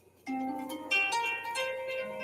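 A calm, soft alert tone called Silk rings out with gentle layered chime notes that swell and overlap, fairly quiet and alone without any talking.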